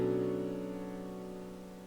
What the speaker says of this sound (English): I used like inversions, arpeggio. Like the overall chord is going to sound like this.